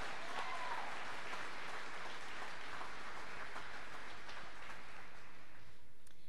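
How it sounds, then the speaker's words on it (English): Graduation ceremony audience at a college health program commencement applauds a graduating student, a steady dense roar of many hands clapping that stays loud throughout. "Let's give this student a well-deserved round of applause for her leadership skills."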